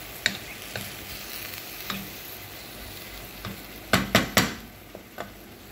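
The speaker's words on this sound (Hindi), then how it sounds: "ये चिकन को मैंने इसके अंदर डाल के सारा, और इसको मैंने थोड़ा सा फ्राई किया है।" Chicken frying in a pan, for a keto mushroom chicken stir-fry, sizzles steadily under sharp, scattered spatula scrapes and knocks, with a quick cluster of three loud stirs near the end.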